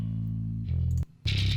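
A bass guitar played through a distortion pedal gives a thick, grungy, buzzing low tone, sustained, then briefly cut off before a fresh gritty note comes back in.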